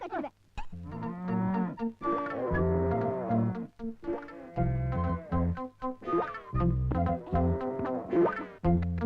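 A cow lows repeatedly in a Tamil film scene, giving a series of loud, drawn-out moos with short pauses between them.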